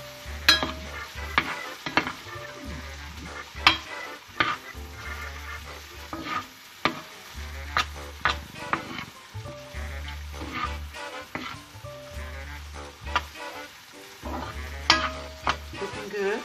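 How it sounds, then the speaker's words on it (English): Vegetables sauté in salted butter in a pan, a continuous sizzle broken by repeated scraping and stirring strokes from a utensil, close and fairly loud, with low background music running underneath and no talking. "Okay, we'll get these sauteed up."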